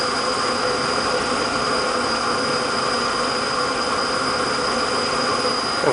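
A vegetable oil burner running on compressed air roars steadily and loudly, a constant rushing hiss with a faint unchanging hum beneath it.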